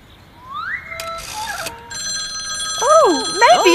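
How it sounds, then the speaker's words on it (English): A telephone rings with electronic warbling chirps and a sustained bell-like tone amid whimsical sound effects in a 2004 Wiggles children's program, fairly loud and close. "The phone."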